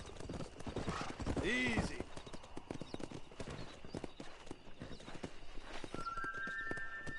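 A horse's hooves clip-clop in a steady trot while people talk over them, with a brief whinny-like cry early on and a faint tonal whistle near the end.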